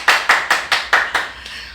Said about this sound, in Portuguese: Vamos lá, gente, uma salva de palmas.